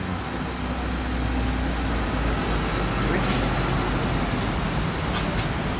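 A Brabus 6x6 off-road vehicle pulls in at a supercar rally, giving a steady low engine rumble and road noise that lasts throughout, with voices over it.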